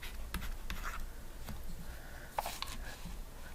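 A pen writes down an answer on paper during a maths exam walkthrough, with brief faint scratchy strokes and a small tap, quiet and close.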